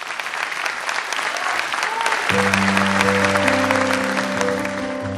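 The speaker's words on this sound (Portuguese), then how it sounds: "Ao Cota Rolo, mais uma vez, uma salva de palmas." An audience applauds at a year-end special show, with a dense burst of clapping that swells and continues while a sustained musical tone enters partway through.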